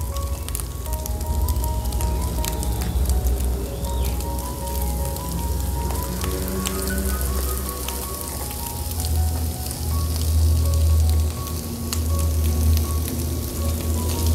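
Luffa (oyong) stir-fried with scrambled egg in a pan, a continuous dense crackling sizzle that holds steady throughout, close and fairly loud with no voices.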